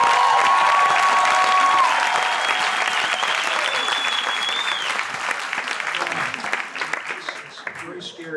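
An audience at a community coalition meeting applauds a speaker being introduced, loud sustained clapping that gradually thins and fades toward the end, with brief whistles and some voices mixed in.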